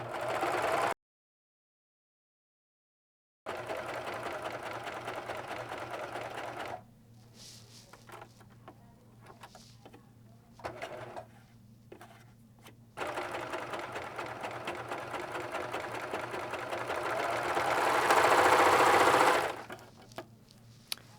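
A sewing machine stitches in steady mechanical runs, stopping briefly several times, then speeding up into a faster, louder whir near the end.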